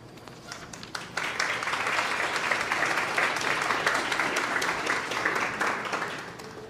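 A packed standing-room crowd applauds at a provincial government announcement of a poverty reduction plan in Newfoundland, steady loud clapping that builds after a second and holds evenly, close and without talk.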